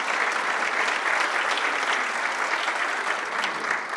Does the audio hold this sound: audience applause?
yes